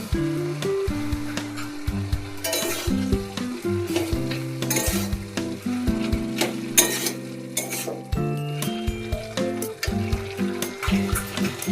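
Pumpkin leaves and mixed vegetables cook in a pan for a vegetarian curry, with steady close frying sizzle under repeated scraping stirs and occasional clinks of a utensil against the pan.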